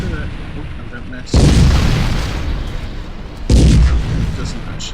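Two loud tank-cannon booms in a prototype video game, each a sharp blast followed by a rolling decay, spaced about two seconds apart over a quiet background.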